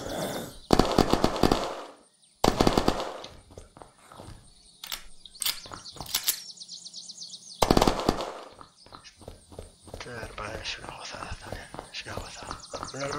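An automatic gun fires in the survival game Unturned: several loud, rapid bursts of gunfire separated by quieter gaps, with a voice talking between and under the shots.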